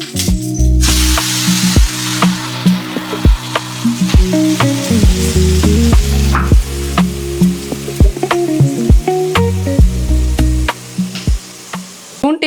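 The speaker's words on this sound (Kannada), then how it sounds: "2 ಗ್ರೀನ್ ಚಿಲ್ಲಿ ಹಾಗೆ ಹಾಕ್ತಾ ಇದ್ದೀನಿ, ಗ್ರೀನ್ ಚಿಲ್ಲಿನ." Two green chillies sizzle in hot oil in a pan during tempering, a loud, steady frying hiss broken by repeated sharp clinks and scrapes of stirring.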